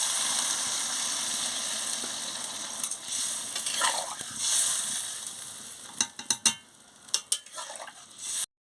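Fish curry with cauliflower bubbles and sizzles in a pot after water is added, a steady close simmer followed by several sharp clicks and knocks near the end.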